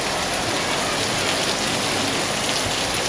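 Heavy rain pours down steadily in a dense, loud, unbroken hiss, close by and with no talking.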